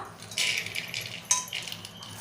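Washed toor, moong and masoor dal lentils poured into a metal pressure cooker make a close, light rattling patter in two or three short bursts, like small grains scattering onto metal, with no talk.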